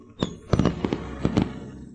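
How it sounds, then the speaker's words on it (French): Fireworks go off for a birthday celebration, with a series of sharp, fairly close bursts and crackles in quick succession and no talking. "Qui peut bien tirer des feux d'artifice?"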